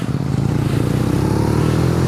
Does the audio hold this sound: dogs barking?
no